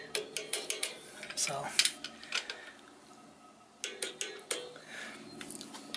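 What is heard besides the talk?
ratchet tightening Melling oil pump bolts on Cummins engine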